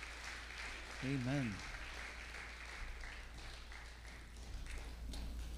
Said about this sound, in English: Bigyan po natin ng isa pang clap offering ang Panginoon po natin.